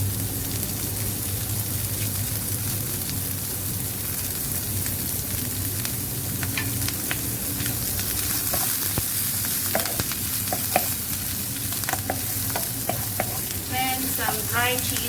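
Onions fry in a pan with curry leaves, giving a constant close crackling sizzle throughout, with occasional utensil scrapes and a brief burst of spitting near the end.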